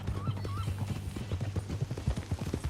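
Horse hooves clip-clop in Red Dead Redemption 2, a steady walking rhythm of soft thuds under a low ambient hum, with a faint whinny-like tone near the start.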